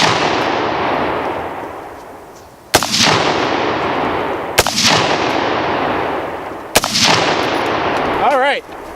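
Three loud, sharp firearm gunshots ring out a couple of seconds apart, each cracking into a long reverberant tail, with a brief faint voice near the end.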